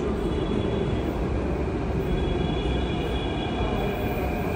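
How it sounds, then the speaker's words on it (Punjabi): A metro train carries riders toward the airport in Delhi, its steady rumble and rolling wheel noise filling the car at close range, continuous and even with a faint high whine and no talking. "ਬੱਸ ਛੱਡਦੇ ਆ ਮੈਟਰੋ ਲੈ ਲਈ ਏਅਰਪੋਰਟ ਨੂੰ ਹੁਣ"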